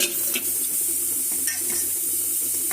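Ghagra leaves with taki fish and onion set on to cook in a pan, giving a steady close sizzle and bubbling with a few soft stirring clinks, alone and without talk.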